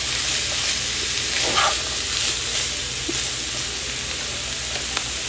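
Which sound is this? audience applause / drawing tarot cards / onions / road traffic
onions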